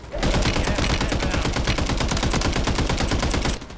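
Rapid automatic gunfire from the Warzone video game, a dense unbroken burst of loud shots lasting about three seconds before cutting off.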